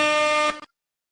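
A single loud, brassy air horn blast holds steady for about half a second, then cuts off abruptly into silence.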